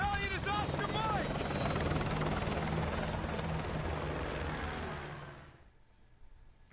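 Helicopter in Call of Duty Modern Warfare 2 Remastered, a loud steady rotor roar with voices over it, fading out abruptly near the end.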